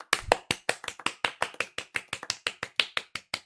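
Hands clap in a quick, steady run of about twenty crisp, close claps, evenly spaced like a single person applauding.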